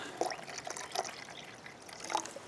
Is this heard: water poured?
yes